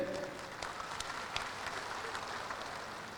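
A crowd at a Golkar party anniversary gathering applauds for the Indonesian Vice President, a sustained, fairly dense clapping that carries on evenly for a few seconds with no one speaking over it.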